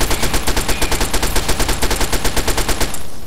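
Rapid automatic gunfire in Fallout 3, a fast, even burst of sharp shots around eight per second, loud and continuous before cutting off at the end.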